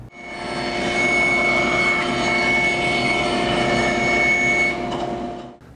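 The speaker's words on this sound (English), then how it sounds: "I'm going to take these over to the bandsaw, and I'm going to cut them down to 3 5/8 inches." A bandsaw runs steadily while cutting wooden table apron pieces, a loud continuous whine and hum with a faint steady high tone, holding for about five seconds before winding down.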